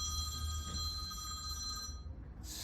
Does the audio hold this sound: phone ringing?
yes